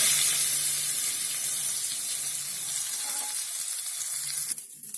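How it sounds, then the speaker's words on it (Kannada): Hot tempering with curry leaves is poured over raw radish chutney, giving a loud, close, steady sizzle that eases slightly before stopping abruptly near the end, with no voices. "ಇವಾಗ ಈ ಚಟ್ನಿಗೆ ನಾವು ಒಗ್ಗರಣೆ ಹಾಕ್ತೀವಿ"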